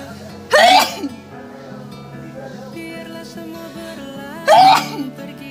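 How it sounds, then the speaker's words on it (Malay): Two sharp, loud sneezes burst out about four seconds apart during a nasal sneezing fit linked to sinus trouble, with quieter breathy sounds and background tones between them. "Banyak betul aku bersin."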